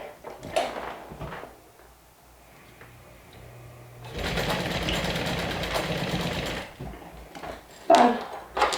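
A sewing machine stitches down a fabric bag strap, a quiet start with scattered handling clicks, then a sustained fast mechanical whir from about four to seven seconds, followed by louder knocks and clatter near the end.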